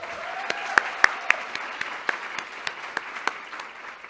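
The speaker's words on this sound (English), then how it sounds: "can we all give a round of applause for Neri?" Audience applause fills Mechanics Hall in Worcester, Massachusetts, at an early childhood summit: a steady, dense wash of many hands, with sharp individual claps standing out throughout and no talking.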